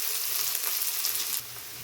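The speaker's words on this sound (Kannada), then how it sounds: "ಈಗ ಕರ್ಬೇವಿನ ಸೊಪ್ಪು ಹಾಕ್ಕೊತಾ ಇದ್ದೀನಿ" Curry leaves drop into hot oil for a tempering, giving a loud, steady crackling sizzle that stays close and continuous, easing slightly toward the end, with no voices.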